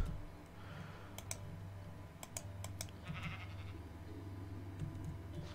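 Sheep bleating in the Minecraft video game, with a few short game bleats standing out over a steady background hum and clicking.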